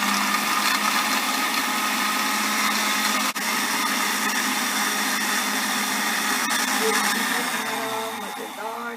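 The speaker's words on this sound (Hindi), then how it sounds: "फिर चंद सेकंड्स के लिए हम ब्लेंडर को चला देंगे" A kitchen blender whirs loudly and steadily for several seconds, mixing a strawberry milkshake of strawberries, milk and sugar, then winds down at the end.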